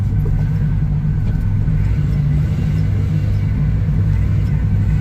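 Motor vehicles drive through standing water on a flooded road, a steady low engine rumble with a continuous wash of water noise, loud and close throughout.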